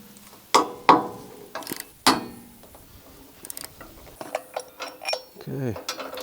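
A wrench or ratchet works on 19 mm ROPS bolts on a TYM 2515H tractor, producing scattered close metallic clanks and clicks with short ratcheting bursts, separated by quiet pauses and handling noise.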